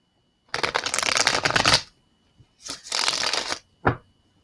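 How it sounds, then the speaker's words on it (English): Tarot cards being shuffled up close: two crisp riffling bursts of about a second each, separated by a short pause, then a quick final snap of the deck, with silence between. "And now I'm gonna do one more shuffle and then we're gonna cut."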